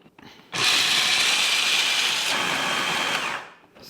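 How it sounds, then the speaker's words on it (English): A food processor grinds pistachios into a topping, a loud steady whirring motor with a dense gritty rattle of nuts, starting abruptly and running continuously for about three seconds before winding down. "Let's put the pistachios into the food processor and let them run."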